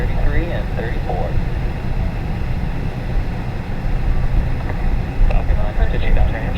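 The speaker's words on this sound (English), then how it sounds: "ignition, and liftoff of Falcon 9." SpaceX Falcon 9 rocket lifting off with the Galaxy 33 and 34 satellites, a steady broadband roar with low rumble that swells slightly over several seconds, heard from a distance.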